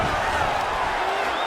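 A UFC arena crowd cheers in a loud, sustained roar that fills the whole clip without a break as fighters return to their feet.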